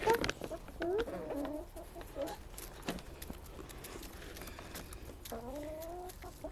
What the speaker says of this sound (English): Want to say hi to the chickens?